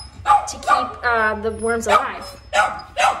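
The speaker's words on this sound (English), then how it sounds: "that's my dog barking" A pet dog barks and yips in short bursts, close and fairly loud, between and over a woman's speech in a home setting.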